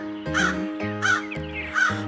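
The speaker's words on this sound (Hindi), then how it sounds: "कालिया कौवा खाने की तलाश में इधर उधर उड़ रहा था।" A cartoon crow caws three times at an even pace, each call loud, close and harsh, with a low musical backing underneath and no talk.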